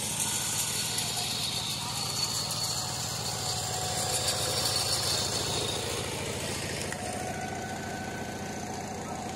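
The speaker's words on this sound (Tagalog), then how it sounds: "iniahon na ho ang traktora." A farm tractor idles at a rice paddy during planting, its steady, low engine rumble and vibration continuing evenly and fairly close throughout, with a slight change in tone toward the end.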